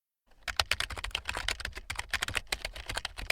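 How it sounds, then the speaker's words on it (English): Fingers tap steadily on a doctor's computer keyboard in an examination room, a close, busy run of quick clicky keystrokes with no talking over them. "The doctor looks at her computer and taps on the keyboard."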